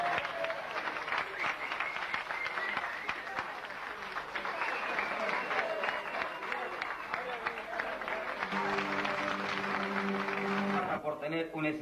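A theater audience applauds a musician after his 37-hour, 15-minute uninterrupted performance in 1998, with sustained dense clapping and a live voice over it. Steady tones join near the end.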